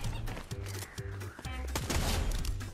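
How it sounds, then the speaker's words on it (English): Snowball launcher in Fortnite firing repeatedly, a rhythmic series of soft thumping shots about every half second, fairly quiet under game noise and faint voices. "Oh, he got a snowball launcher."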